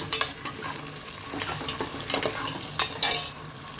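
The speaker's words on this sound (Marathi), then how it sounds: "नंतर त्यामध्ये उभा चिरलेला टोमॅटो घालून घेऊन तोही नरम होईपर्यंत परतवून घेऊया." Sliced tomato sautéing in oil for matar pulao, with a steady sizzle under repeated scraping stirs of a spoon against the pan, close and fairly loud, no voices.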